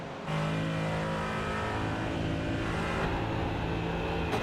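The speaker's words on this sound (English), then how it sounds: "we're going to ride on board with Warren Johnson here" Race car engine heard from onboard in the iRacing sim at Bathurst's Mount Panorama, a loud steady high-revving drone with shifting pitch, continuous and close throughout with no talk.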